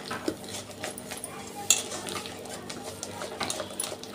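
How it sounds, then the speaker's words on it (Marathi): Dahi vada batter is beaten by hand in a bowl after the lid comes off, making soft wet slapping and stirring sounds with occasional clinks of the vessel, close and fairly quiet. "10 मिनिटांनंतर झाकण काढलं आणि हाताने फेटून घेत आहे।"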